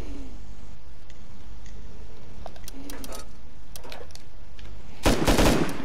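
Enemy gunfire in a multiplayer shooter, scattered distant shots crackling through the first seconds, then a loud close burst near the end over a steady ambient bed.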